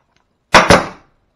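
A Metabo HPT 18-gauge brad nailer fires into a ripped-down piece of 2x4, giving two sharp, loud pneumatic snaps in quick succession that fade fast into silence.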